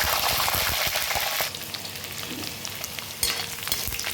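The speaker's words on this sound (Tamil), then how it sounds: "இப்போ பூண்டு ஆட் பண்ணிக்கிறேன்." Garlic fries in hot oil with mustard seeds and dried chillies for a brinjal curry, giving a dense, steady crackling sizzle that softens a little midway, with a few stirring scrapes.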